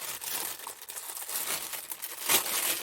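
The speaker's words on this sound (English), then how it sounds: "sorry for the crinkling" Plastic packaging around small piggy resin molds crinkled and rustled up close, a continuous run of bright crackling with a louder burst near the end and no talk.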